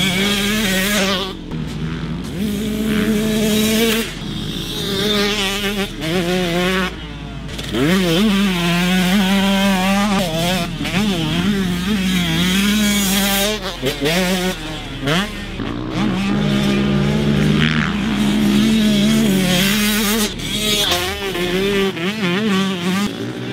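A 2017 Husqvarna TC125 two-stroke motocross bike screams around a dirt track, its high-pitched engine rising and falling continuously through gear changes and throttle blips, loud and close throughout.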